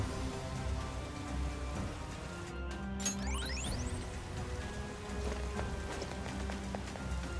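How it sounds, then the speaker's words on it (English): Rain pouring down in Persona 5 Strikers, a dense steady hiss of falling water that fills the whole stretch, with faint chimes and game effects sweeping through partway. "It just started pouring all of a sudden."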